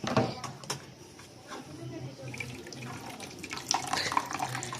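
Tap water runs over freshly made chhena being washed at an outdoor sink, a steady close splashing rush with small gurgles and drips; a voice is faintly present.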